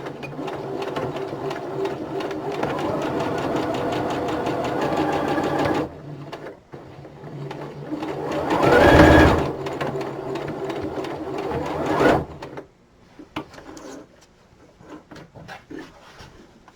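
A sewing machine runs in long steady bursts while stitching the seams of a toque hat, with a rapid mechanical whir, short pauses and a brief louder rub partway through.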